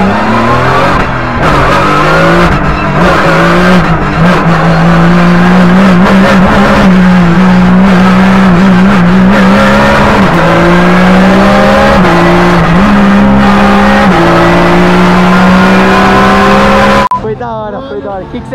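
A Porsche race car accelerates hard around the Interlagos circuit, its loud engine whine rising and shifting through gears continuously, with voices shouting over it before a sudden drop at the end.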